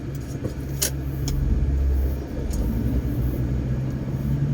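A ten-wheeler truck passing on a road, a low, heavy engine rumble that swells as it draws near and then fades, heard from nearby with no talk.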